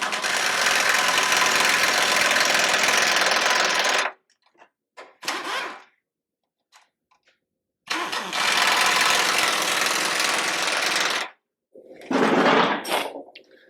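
Heavy-duty steel bolts being power-tightened on a custom cross member of a 1956 International COE truck: two long, loud, buzzing bursts of several seconds each, with short spurts and near-silence between them.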